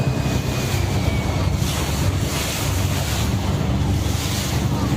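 Deep floodwater rushing through a city street in China, high enough to reach a traffic light, makes a steady broadband roar and wash with strong wind buffeting, continuous and loud throughout, no voices.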